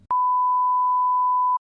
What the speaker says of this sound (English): So what test oscillator is it basically gives you a test signal, okay, a sine wave signal